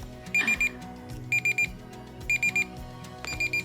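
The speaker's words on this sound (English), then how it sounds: "I just looked at the timer. There's only 5 seconds left. It's about to go off." A timer alarm goes off in four clear bursts, each a rapid cluster of three or four high electronic beeps, repeating at a steady rhythm, loud and close with no talking.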